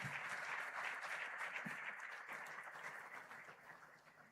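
Audience applause at a large student organisation event, a steady wash of clapping from a crowd that holds strong throughout and gradually thins toward the end.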